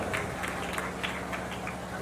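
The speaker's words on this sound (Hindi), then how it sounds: "एक बार जोरदार तालियां बजाकर स्वागत अभिनंदन करें।" A crowd at an annual fair festival in Rani Virgawan, Bhind district, claps in a welcome, a dense and steady wash of applause with slight pulsing swells throughout.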